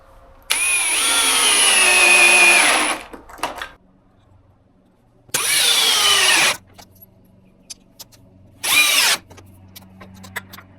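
Power drill driving tek screws to mount caster wheels on a workbench frame, three loud whining bursts of a couple of seconds each, the motor revving and slowing as screws seat, with quiet handling clatter between.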